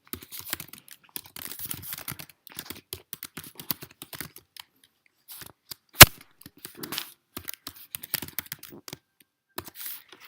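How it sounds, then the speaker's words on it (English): Typing on a computer keyboard, rapid close clicky keystrokes in uneven bursts with short pauses and one sharp louder tap midway. "then you're going to type in whatever."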